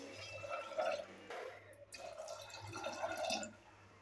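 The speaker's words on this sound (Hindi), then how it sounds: "तो ये हमने पानी डाल दिया है, आप देख सकते हैं।" Water is poured into a pressure cooker holding rajma (kidney beans), making a soft, faint splashing and gurgling pour with no other sound.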